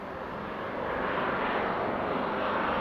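A Ryanair Boeing 737-800 airliner arrives at Manchester Airport, producing a steady, broad engine roar that swells gradually and holds loud and continuous throughout.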